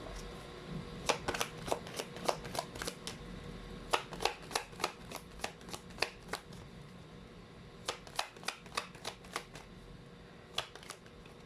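Playing cards are shuffled and flicked during a card reading in a quiet room, crisp rapid riffling bursts in close, rhythmic clusters with short pauses between them.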